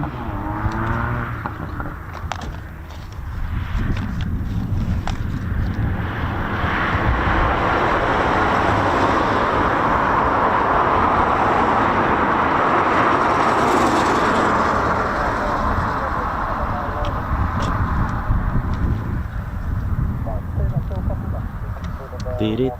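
A Supermarine Spitfire PR19 departs at RAF Coningsby, its engine a loud, steady roar that swells toward the middle and fades slowly, with wind noise throughout.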